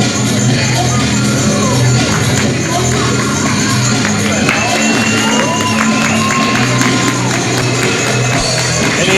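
Wrestling event crowd applauding and cheering a wrestler's entrance, a steady loud roar of claps, shouts and chatter filling the whole stretch, with a voice talking over it.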